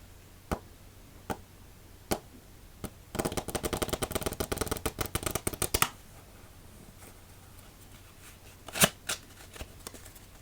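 A deck of playing cards is shuffled after a solitaire game: scattered single taps and snaps, then a rapid riffle of dense clicking for about three seconds, followed by a few more isolated card taps, close and quiet.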